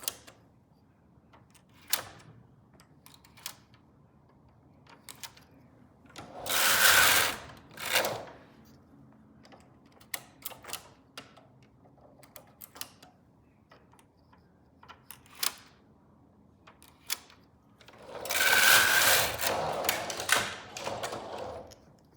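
Silver Reed knitting machine knitting a row of stitches for net jacquard, with two long loud whooshing carriage passes and scattered mechanical clicks and taps between them, close and otherwise quiet, no speech.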